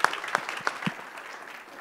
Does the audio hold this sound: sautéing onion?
no